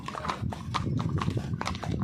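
Horse hooves clip-clop in a quick, fairly regular rhythm during a horse ride in a green valley at Kodaikanal, close and steady over a low rumbling background, with no voices.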